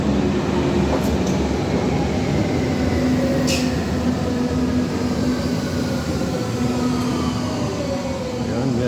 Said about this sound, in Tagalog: ang dyan manggagaling ang train natin guys.